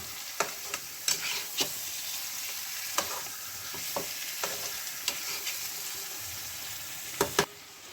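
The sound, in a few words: chicken with spices frying and stirred in a pan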